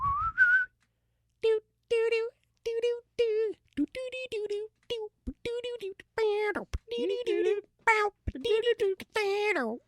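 A man whistles a theme song in short, lively melodic bursts separated by brief pauses, close and clear against silence, the tune bending and trilling across about ten seconds.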